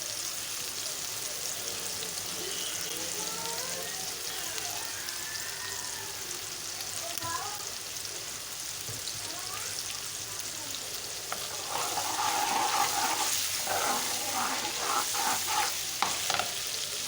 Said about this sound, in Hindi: और इसका हम तड़का लगाएंगे मसरों को।